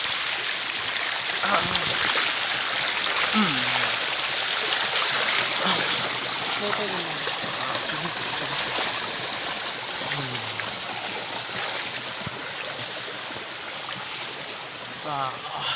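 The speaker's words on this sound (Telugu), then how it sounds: "ఇక్కడ అందంగా వాటర్ ఫాల్స్ సూపర్గా ఉన్నాయి" A forest waterfall at the entrance to the Bhargava Narasimha temple gives off a steady rushing hiss of falling water, with faint chirping birds mixed in and some distant voices underneath.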